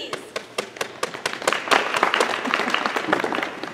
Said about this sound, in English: Please welcome to the stage with a big round of applause, Jenna and Achilles.